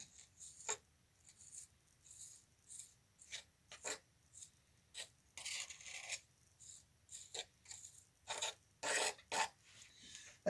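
Tool doing the final smoothing pass on a handmade tile, a series of short, close scraping and rasping strokes in an irregular rhythm, each one separate against a quiet background.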